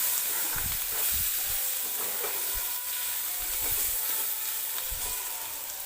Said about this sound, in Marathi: तर एक 3-4 मिनिटे लागतात हा कांदा व्यवस्थित भाजायला.